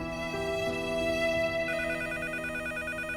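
A telephone rings indoors, with repeated electronic bell tones that switch to a faster trilling pattern partway through, moderately loud and alone.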